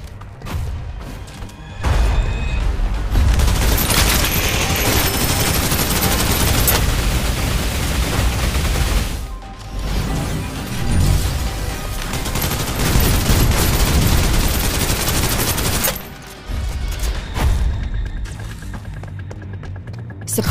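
Suppressive gunfire in the video game Snowbreak: Containment Zone: loud, dense, sustained automatic fire with heavy crashing impacts. It drops out briefly twice and resumes, fading to sparser bangs near the end.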